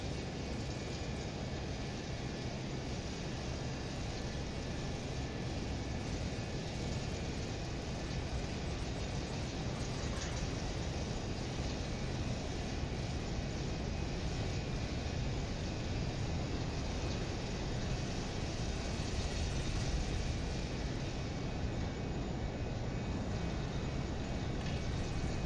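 LearJet jet engines roaring during takeoff in Microsoft Flight Simulator 2020, a steady, dense, unbroken rumble with a high whine that holds level throughout.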